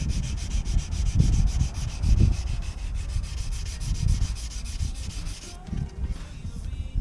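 Steady rhythmic scrubbing of 240-grit sandpaper over a BMW X5 E53 wheel rim, close and continuous with repeated back-and-forth strokes throughout.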